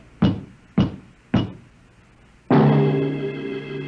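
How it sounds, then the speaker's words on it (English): Three sharp, evenly spaced knocks on a door ring out alone, followed by a sudden sustained musical sting that fades slowly, a radio drama sound effect. "There was a knock on the door."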